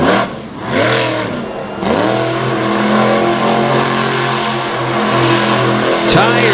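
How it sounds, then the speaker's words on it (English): Kamikaze monster truck's engine revs hard and rises and falls in loud sweeping pitch while spinning a smoking donut on an arena infield, with an announcer talking over the roar. "smoking donut down on the infield"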